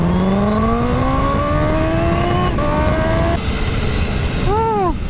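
Kawasaki H2 supercharged motorcycle accelerating with the throttle feathered, a loud close engine tone rising steadily in pitch, then dropping away into wind roar, with quick blips at the end.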